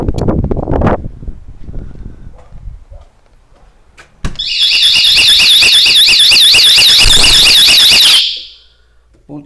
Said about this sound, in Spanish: Alarma que tiene salida a la piscina.